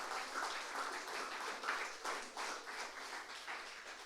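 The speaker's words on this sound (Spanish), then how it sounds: "Un aplauso para todos ellos" Soft, distant applause from a congregation during a Sunday church service, rising and falling in gentle waves without voices.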